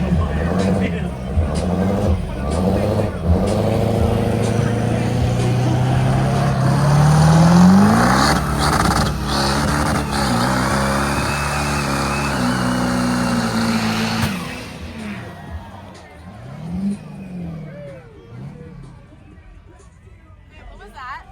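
The new JH Diesel Mega Truck 2.0, still in break-in, revs its diesel engine hard during a truck pull, rising and falling in pitch as it strains and climbs, loud and close, with crowd chatter and voices underneath.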